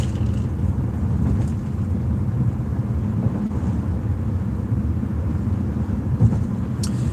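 Steady low rumble of road and engine noise inside a moving car, constant and fairly loud, with a few faint clicks and no talking.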